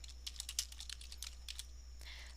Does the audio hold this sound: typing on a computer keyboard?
yes